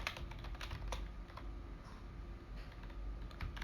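Someone types on a computer keyboard while entering text in AutoCAD, a quiet, steady patter of close key clicks with a few sharper taps over faint background hiss.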